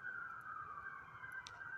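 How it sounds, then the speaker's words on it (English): A police siren wails faintly in the distance down a residential street in Cypress, Texas, a thin steady tone over low background noise. "There's sirens going on."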